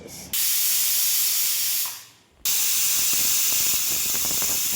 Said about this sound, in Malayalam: രണ്ടാമത്തെ വിസിലും അങ്ങനെ അടിച്ചിരിക്കുകയാണ്